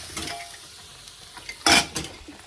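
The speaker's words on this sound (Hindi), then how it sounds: "लंच की तैयारी कर रही हूँ। मैं बना रही हूँ राजमा," Rajma (kidney beans) cooking for lunch in a pan: gentle sizzling and frying with a spoon stirring and scraping, one louder burst of sizzle near the end, close and with no talk.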